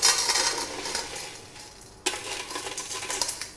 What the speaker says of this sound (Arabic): تعالوا بقى نفض كده الإزاز بالراحة كده خالص